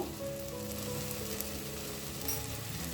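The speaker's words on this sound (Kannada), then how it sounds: "ಇಷ್ಟೆಲ್ಲ ಹಾಕಿ ನೀಟಾಗಿ ಇದನ್ನು ಎಣ್ಣೆ ಒಳಗಡೆ ಮಿಕ್ಸ್ ಮಾಡ್ಕೊಳ್ಳೋಣ" Pav bhaji masala and spices fry in oil as a faint, even hiss of sizzling, steady from start to finish with no voices.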